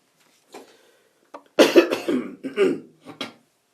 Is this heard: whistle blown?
no